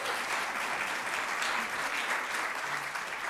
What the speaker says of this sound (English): we'd love to just recognize you with a round of applause